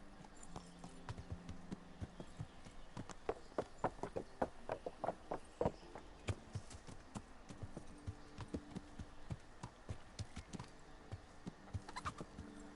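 Horse hooves clip-clop on the ground in Kingdom Come: Deliverance, a steady stream of distinct hoofbeats at a walking pace, sharp and fairly close, over a low ambient background.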